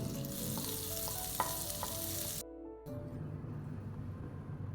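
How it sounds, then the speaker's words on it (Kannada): Butter melts and sizzles in a hot pan with a steady, close frying hiss, broken by a brief lull partway through before the sizzle resumes. "ನಾನಿಲ್ಲಿ ಪಾನನ್ನು ಇಟ್ಕೊಂಡಿದ್ದೇನೆ, ಹಾಗೆ ಸ್ವಲ್ಪ ಬೆಣ್ಣೆಯನ್ನು ಆ್ಯಡ್ ಮಾಡ್ಕೊಳ್ತೇನೆ"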